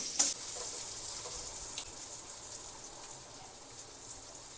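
Potatoes and parwal frying in oil in a pan, a soft steady sizzle with a brief clatter near the start, quiet and close.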